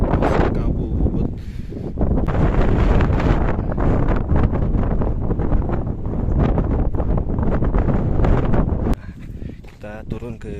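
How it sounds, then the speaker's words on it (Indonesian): Strong wind buffets the microphone on the foggy summit of Mount Ciremai, a loud continuous roar with gusting surges that drops abruptly near the end. "melindungi badan dari terpaan angin yang cukup kencang ini dan masih kabut"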